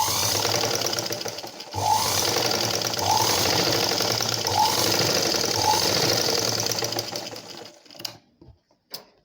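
A sewing machine stitches blouse fabric along a hem, a rapid close mechanical chatter running steadily for several seconds, then stopping with a few clicks and handling knocks.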